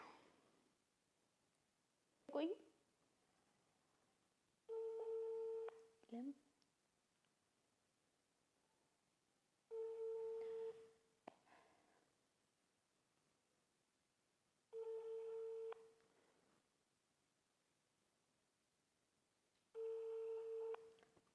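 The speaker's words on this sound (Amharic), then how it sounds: "የደወልኩለት ነው፣ ይጠራል ግን አያነሳም።" A phone ringback tone repeats four times at even intervals, each ring about a second long with silence between, never answered; a brief click comes early on.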